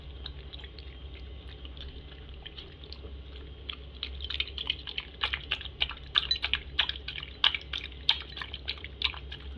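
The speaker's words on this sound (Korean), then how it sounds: "씹어먹는 소리가 아주" A dog crunches grain-free vegan dry kibble from Germany, starting softly and growing into dense, irregular crisp chewing clicks, close and fairly quiet against a low background hum.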